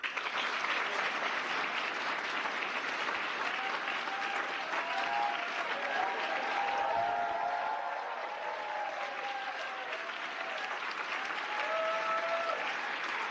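Sustained, dense applause from a large crowd, loud and even throughout, with scattered cheers rising above the clapping.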